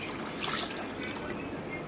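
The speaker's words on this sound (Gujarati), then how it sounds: "આ રીતે ઠંડુ પાણી લઈને આપણે હલાવી દઈએ।" Soft watery swishing and light trickling, steady and close, as a litre of cold water is stirred around in a bowl for pani puri.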